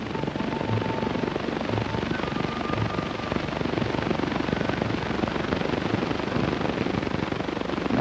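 A motorcycle engine roars at a steady, loud pitch while climbing a steep hill at a Muskegon motorcycle hill climb event, a continuous rough drone with outdoor wind noise and no pauses.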